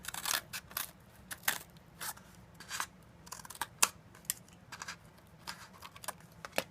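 Scissors trimming material for a cosplay gauntlet and finger pieces. The sharp snips come in quick, irregular bursts, close and fairly quiet, with no talking.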